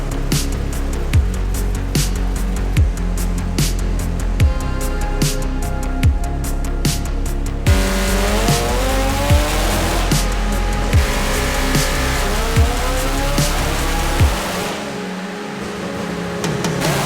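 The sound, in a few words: Toyota Supra engine revving on dyno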